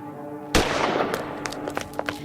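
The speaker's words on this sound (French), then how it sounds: "Un gardien se précipite là où le coup de feu a retenti." A single sharp gunshot bursts out loudly in a night-time cemetery scene of a dramatised story, then rings into a noisy, crackling tail with scattered clicks.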